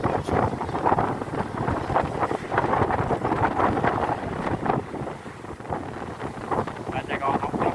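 Sea wind blowing at night, a steady broadband rush with gusty swells and buffeting against the microphone, loud and continuous throughout.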